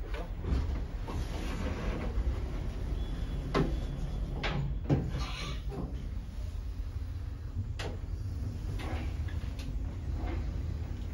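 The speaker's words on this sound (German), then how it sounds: "Tür schließt." Elevator door in the Poststraße subway station in Cologne sliding shut amid steady station rumble, with several clunks and thuds from the door mechanism spread over about eleven seconds.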